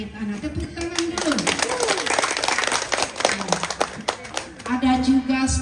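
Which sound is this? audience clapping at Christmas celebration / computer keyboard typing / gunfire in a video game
audience clapping at Christmas celebration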